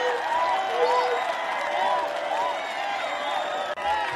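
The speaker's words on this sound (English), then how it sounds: "We're gonna do some Yay! clapping." Audience clapping and light cheering at a live comedy or talk show, a steady crowd patter with whoops over it, mid-distance and fairly loud. Someone talks over the crowd.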